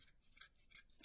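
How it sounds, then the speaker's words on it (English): Scissors snipping through loops of yarn on a pom-pom, quick soft crisp cuts repeating about four times in close succession, quiet and near. "all we do to finish our pom-pom is to cut the loops of"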